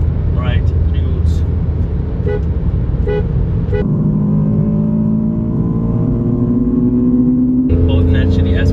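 Honda S2000 and BMW E46 M3, both naturally aspirated, race side by side, the engines revving hard with rising gear-change whines, under people talking in the car.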